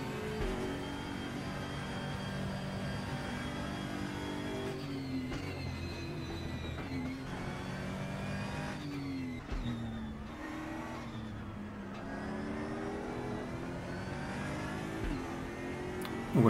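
Race car engine in a free Steam racing video game, a continuous loud revving drone that rises and falls through gear shifts on the straights, steady throughout with no talk.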